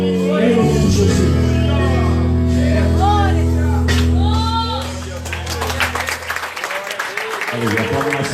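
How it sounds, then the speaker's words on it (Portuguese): A church congregation claps and cheers loudly for a sustained stretch, with a preacher's amplified voice and music ringing over the crowd before the applause thins into scattered claps. "Aplauda mais forte que é para Jesus."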